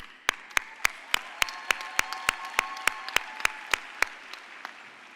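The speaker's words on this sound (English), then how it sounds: "One more clap" A sharp, evenly spaced series of about fifteen loud single claps ringing through a large hall at an engineering awards keynote, with a faint murmur of the audience beneath.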